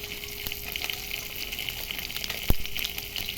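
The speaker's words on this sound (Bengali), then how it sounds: "কড়াইয়ে তেল গরম হয়ে গেছে। আমি প্রথমেই দিয়ে দিচ্ছি সাদা জিরে" White cumin seeds crackle in hot oil in a kadai, a steady close sizzle with one sharp pop partway through and fish frying nearby, no voices.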